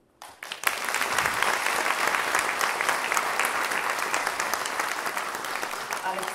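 A concert audience breaks into loud, sustained applause, a dense wash of many hands clapping that starts abruptly and holds steady throughout.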